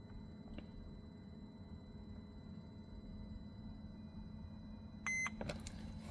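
A short electronic beep from a Mercedes W639 Vito/Viano dashboard button, held during a service reset, sounds near the end, after a quiet stretch of low idling hum.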